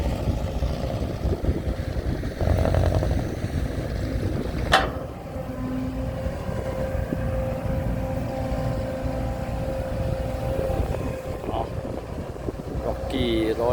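Kobelco SK140LC Super X excavator with its engine running at a steady idle, a continuous low mechanical drone with a faint tonal whine and some wind noise, plus a few brief knocks.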